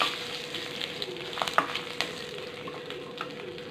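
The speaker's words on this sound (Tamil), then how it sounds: "நல்லா வதக்கிட்டோம்." Curry leaves, green chillies and asafoetida sautéing in a pan give a steady, close sizzle and fry hiss, with a few soft stirring scrapes of a spoon along the way.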